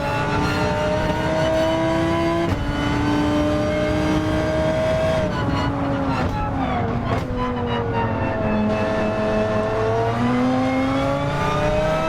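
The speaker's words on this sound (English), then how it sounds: "Just having a hear to this beautiful V10 as Jensen tries to reel in Isidro." A V10 race car engine in Gran Turismo 7 drones steadily through a racing sim championship race, pitch rising and falling with shifts and throttle, loud and continuous with other cars faintly around it.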